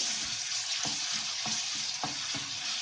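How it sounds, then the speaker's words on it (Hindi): Garlic ginger paste frying in oil for soya chaap curry, a dense continuous sizzle with a spoon stirring and scraping the pan in a regular rhythm, close and loud with no voices. "अब इसमें डाल देंगे लहसुन अदरक का पेस्ट। इसको थोड़ा सा चलाएंगे।"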